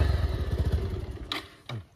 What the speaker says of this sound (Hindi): गाइस ये बाइक हमारे साथ नहीं दे रहा।